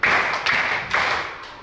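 Schoolchildren clap in a group rhythm, three quick bursts of claps close by with the last one fading out.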